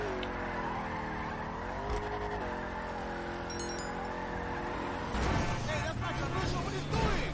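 Tires squeal and skid as a Declasse Vigero ZX spins donuts in GTA 5, its engine droning steadily under conversation. The screech grows rougher and louder in the last couple of seconds.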